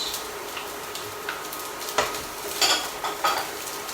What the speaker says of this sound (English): the onions now actually started to brown up a little bit, so I'm going to stir that through